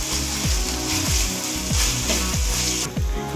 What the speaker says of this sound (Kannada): ಶುಂಠಿ ಬೆಳ್ಳುಳ್ಳಿ ಪೇಸ್ಟ್ ಚೆನ್ನಾಗಿ ಎಣ್ಣೆಯಲ್ಲಿ ಫ್ರೈ ಆಗಬೇಕು.